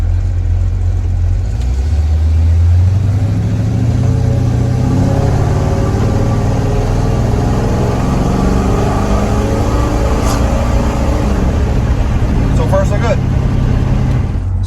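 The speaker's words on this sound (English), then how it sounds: "So when I pull out of here, I'm gonna give her a little bit of beans just to see what happens when all that fuel sloshes the back." A Chevrolet C10 pickup with EFI pulls away from a stop, its mid-pitched engine rising as it accelerates and staying loud and close inside the cab throughout.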